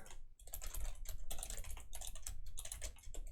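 Fingers type quickly on a computer keyboard, producing a close, steady patter of clicking keystrokes with a brief pause near the start.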